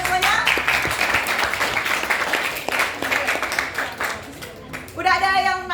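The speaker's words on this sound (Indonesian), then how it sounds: "Tepuk tangan semuanya." Audience applause at a class presentation on cellular respiration, sustained clapping through most of the stretch, ending with a voice speaking over it.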